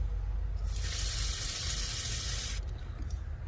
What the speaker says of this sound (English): So let's go ahead and spray this while we're not spraying my phone.